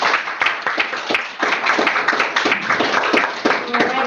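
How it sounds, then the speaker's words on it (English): Applause from a meeting audience for the session's speakers, a short dense burst of many hands clapping at close range, steady from start to finish. "Another round of applause for you."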